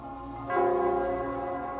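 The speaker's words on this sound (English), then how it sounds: "It would seem it's the bell." A bell tolls once in the game Wuthering Waves, a rich resonant clang with ringing overtones that swells in at the start and sustains as it slowly fades, alone and fairly loud.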